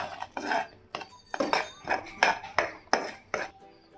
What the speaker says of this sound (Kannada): ಇವಾಗ ಧನಿಯಾ ಪುಡಿ ಹಾಕಿದಾದ್ಮೇಲೆ ಒಂದ್ಸತಿ ಚೆನ್ನಾಗಿ ಮಿಕ್ಸ್ ಮಾಡ್ಕೊಳ್ಳಿ